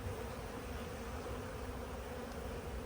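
A faint, steady hum of honeybees buzzing inside a nuc box at a hive, low and continuous with no other sounds over it.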